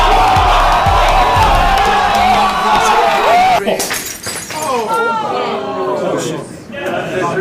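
Glass shatters with a sharp crash amid loud crowd noise, then voices and chatter continue.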